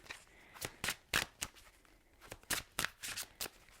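A deck of tarot cards being shuffled by hand, with quick riffling bursts in an uneven rhythm, close and fairly quiet, and no other sound around them.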